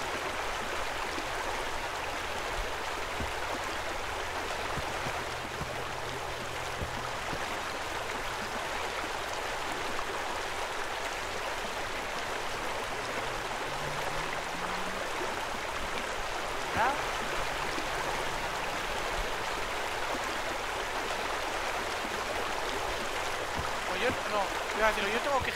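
Water steadily fills a pool in the video game Pool Cleaning Simulator, a continuous soft rushing stream.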